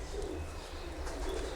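Pigeons coo in a low, soft murmur that carries on for the whole stretch. A few brief higher chirps come over a steady background hum, with nobody speaking.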